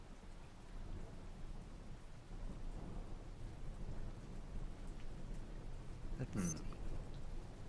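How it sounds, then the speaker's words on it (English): Soft, steady rain patters in the background during an online tabletop roleplaying session, a continuous hiss with a brief spoken phrase over it. "The soft rain noises in the background are nice."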